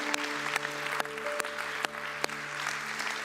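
A church congregation applauds after worship, steady clapping over sustained musical tones from the band, with a few sharper claps standing out.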